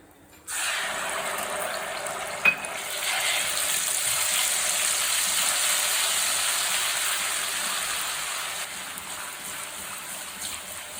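Ginger garlic paste hits a hot pan of oil for a prawn pickle and bursts into a sudden loud sizzle that settles into a steady, continuous hiss, with no talking.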